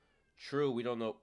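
A pet cat gives a drawn-out, wavering meow close by indoors, overlapping with a person talking.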